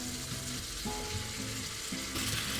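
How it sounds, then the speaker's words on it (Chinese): Chicken, onion, ginger powder and mixed vegetables stir-fry in hot oil in a pan, giving a loud, steady sizzle that runs without a break, with scraping stirs now and then. "所有其他的材料一起下锅，"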